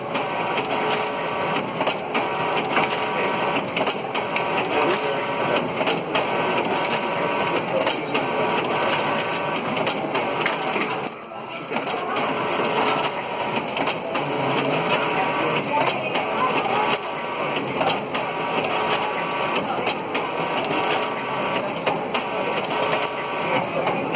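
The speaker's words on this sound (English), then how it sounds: "The first printout does take a few seconds depending on the complexity of the document" A Xerox C60 color copier printing a large two-sided document, a steady, close mechanical whir and rhythmic paper-feed clatter that continues without a break, with a brief dip near the middle.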